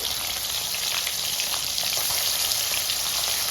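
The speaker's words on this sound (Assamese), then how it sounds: "ইয়াতে মই মাছখিনি ফ্ৰাই কৰি লম ধুনীয়াকৈ" Fish frying in hot oil for an Assamese rice meal, a steady dense sizzle with crackling spatters throughout, close and continuous with no talk.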